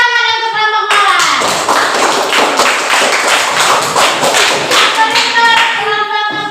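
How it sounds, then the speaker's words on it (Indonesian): A classroom of students claps for a presenting group in a sustained round of applause that starts suddenly and runs for several seconds, with a few tonal voices or whistles at the start and end. "Tepuk tangan untuk kelompok mawar."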